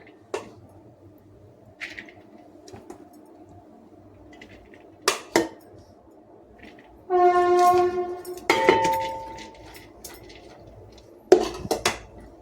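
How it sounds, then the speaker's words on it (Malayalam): A spoon scrapes and clinks against a pot as chicken curry is mixed into biryani, with sparse metallic knocks and scrapes over a quiet background and a couple of louder clanking bursts. "അപ്പം ഞാൻ ഇത് മിക്സ് ചെയ്യാൻ പോണേണ് ബിരിയാണിയിലോട്ട്."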